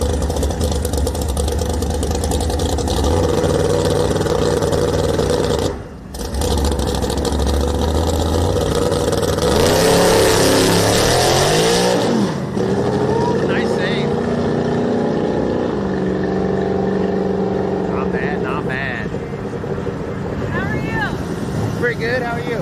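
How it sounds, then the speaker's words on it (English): Big-rim, hard-tire race cars running on a drag strip at a test-and-tune session, with a steady loud engine roar and a rising rev sweep midway, wind buffeting the microphone throughout. "Watching the big rim hard tire cars work."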